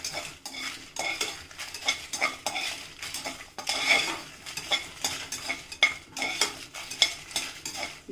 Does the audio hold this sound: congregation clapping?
no